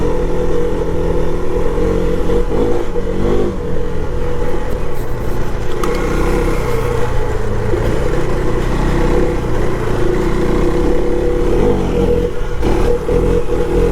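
A KTM 390 Adventure motorcycle ridden on enduro-style trails, its single-cylinder engine droning loud and close with rising and falling revs, plus wind buffeting and some clatter over rough ground.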